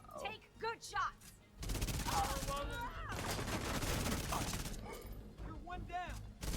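SMG fire in the video game The Division 2, a long sustained burst of rapid automatic shots with short bursts before and after, heard alongside game sounds.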